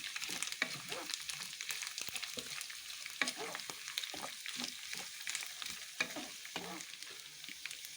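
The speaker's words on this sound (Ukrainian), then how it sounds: "Додаємо одне яйце та перемішуємо" An egg is stirred into a frying pasta dish in a pan, with a soft steady sizzle under repeated scraping stirs from a spoon or spatula, close and fairly quiet, no voices.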